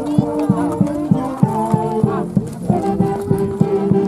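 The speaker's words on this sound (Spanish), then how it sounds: "Ese caballo hay que arreglarlo." Horse hooves clip-clop in a brisk, regular rhythm at a traditional festival in Sacsamarca, Peru, with steady music playing loudly throughout.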